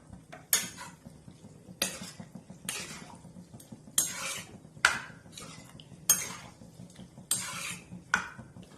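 A spoon scrapes and stirs lobia (black-eyed pea) curry in a metal pot, in regular strokes about once a second, each a bright scraping swish with light clinks, close up and with no talk.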